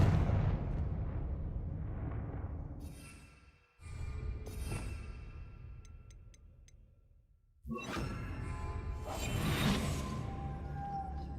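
Confringo fire spells in Hogwarts Legacy set off deep rumbling explosions, several heavy blasts with whooshing tails that cut out between them, loud and booming with no talk.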